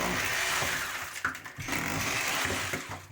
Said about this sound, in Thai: หรือสกัด